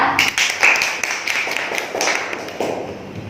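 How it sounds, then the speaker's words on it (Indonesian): A classroom of third-grade pupils breaks into a short round of applause for a classmate, a dense patter of claps that fades over a few seconds, with a voice faintly underneath. "Beri tepuk tangan untuk Nabila."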